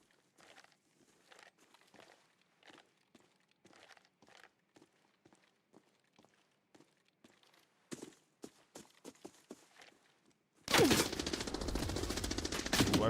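Automatic gunfire in the video game Arena Breakout Infinite: sparse footsteps and short muffled bursts build up, then a loud, dense stretch of sustained fire closes the passage.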